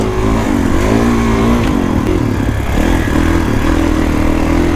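A 2021 Kawasaki KX450X dirt bike pulls away on a rocky black diamond trail, its engine loud and close, the pitch rising and wavering as the clutch is slipped and throttle opens.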